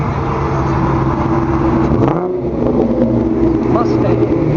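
Classic cars roll past at a cruise event, engines rumbling steadily nearby with one car swelling up and fading as it passes, while people talk over the traffic noise.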